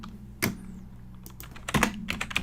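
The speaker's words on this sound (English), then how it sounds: "Oh, keyboard ain't working again." Keys clack on a computer keyboard in a few scattered taps and short quick bursts, close and crisp against a quiet room hum.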